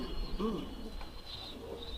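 Pigeons coo once in a soft, low call early on, over a murky background of faint ambient noise.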